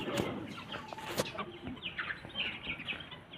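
Several chickens clucking and squawking close by on a poultry farm, irregular calls overlapping against a quiet barn background.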